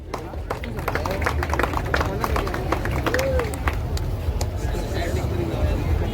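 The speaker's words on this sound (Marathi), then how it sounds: "जोरदार टाळ्या या स्पर्धकांसाठी" An audience claps steadily and loudly for a child contestant in a Lord Krishna costume competition held for Narak Chaturdashi in Malvan, with a dense, continuous patter of hands and crowd noise throughout.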